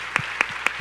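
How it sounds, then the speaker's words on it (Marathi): Audience applause at a live Marathi talk session at the Dakani Adab 2022 event: a short burst of scattered hand claps, only a few distinct loud claps standing out over a soft wash of clapping. "त्यांच्याकरता एकदा जोरदार टाळ्या"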